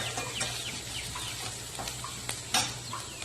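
Big onions and small onions are stirred together in a kadai for green chicken masala, with repeated quick scraping sweeps of a spoon against the pan over a faint low hum, close up and without talk.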